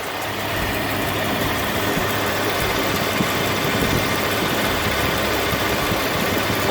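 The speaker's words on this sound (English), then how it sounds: "Oh yes, you can see the compressor spinning right there." A 2010 Lexus RX350 engine idles with its air-conditioning compressor running, giving a steady, loud, close mechanical hum and rumble that holds evenly throughout without a break.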